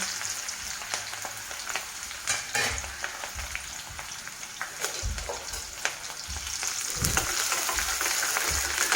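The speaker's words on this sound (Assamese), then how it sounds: "পিঁয়াজখিনি মই 10 ছেকেণ্ডমান ভাজিম কম জুইত" Sliced onions salted and frying in oil over low heat for fish head bhuna masala make a soft, continuous sizzle, broken by several light spatula stirs and scrapes close by.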